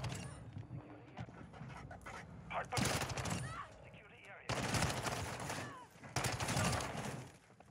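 SMG fire in Modern Warfare 2 multiplayer, rapid bursts of automatic shots in several loud clusters amid other battle noise, with a player's voice speaking over parts of it.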